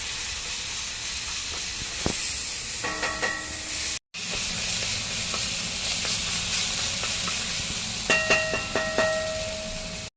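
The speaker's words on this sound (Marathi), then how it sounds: "चांगलं तेल सुटेपर्यंत मस्त परतून घेऊया" Masala for Konkani-style stuffed eggplant sautéing in oil, giving a steady close sizzle and hiss with a few scattered clinks and scrapes of stirring; a short dropout of silence breaks it partway through.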